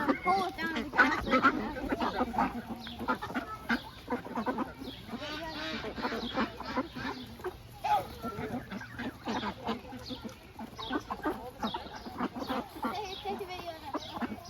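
Ducks at a birds of prey centre give scattered clucking and quacking calls, close by and mixed with steady talking from people nearby, over an outdoor background.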